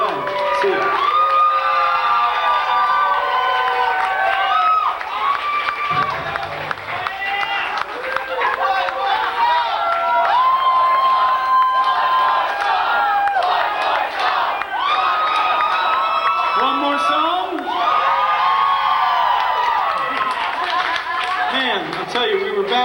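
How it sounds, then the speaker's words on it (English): A concert crowd roars and cheers for an encore, a loud, sustained wash of shouting, whoops and excited voices throughout, with scattered nearby chatter mixed in. "we heard the roar of the crowd"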